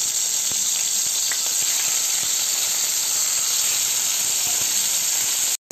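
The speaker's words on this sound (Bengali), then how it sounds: "তেল গরম হয়ে গেছে, এর মধ্যে আমি একে একে মাছগুলো দিয়ে দেব।" Fish frying in hot mustard oil in a wok, a dense, steady, close hissing sizzle that runs unbroken throughout with a few small pops and clicks.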